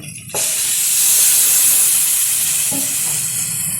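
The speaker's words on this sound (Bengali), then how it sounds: "দিয়ে দিচ্ছি পরিমাণ মতো জল" Water hits a hot pan of soybean curry cooked with goat fat, bursting into a loud rushing hiss of steam that starts abruptly and holds strong, close up and unbroken by talk.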